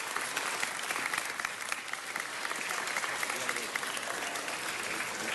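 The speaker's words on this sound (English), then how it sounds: "Applause, applause, applause." Sustained applause from an audience for a certificate recipient from the American Society of Civil Engineers, steady dense clapping throughout, moderately loud with no voices rising above it.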